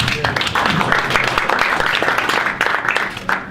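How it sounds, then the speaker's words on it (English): An audience after a lecture on Christian faith and the scientific method breaks into loud, dense applause that holds evenly for several seconds, close and full, with no talking over it. "Give me another applause."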